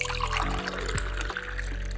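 Warm water trickles and pours into a bowl in a steady close stream, with a few brief splashy bumps along the way and no voices.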